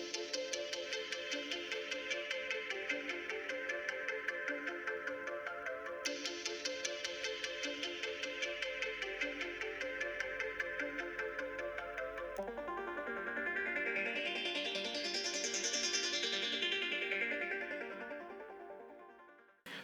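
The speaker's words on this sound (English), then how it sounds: "Just the two different synth lines." Two synth lines from a pop sample pack play back to back, a rapid pulsing, bright arpeggiated verse pattern followed by a sustained chorus line with a rising and falling sweep, steady and fairly quiet throughout.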